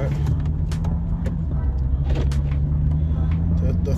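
A BMW M135i with a Stage 2 tuned N55 engine drives along in sport mode with the sunroof open. A steady low engine drone and road rumble carry through from inside the cabin, and a person talks over it.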